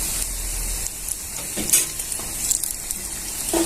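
Corn pakoras (bhaji) frying in hot oil crackle and sizzle steadily at close range, with occasional stirring scrapes and bubbling bursts over a continuous hiss and no speech.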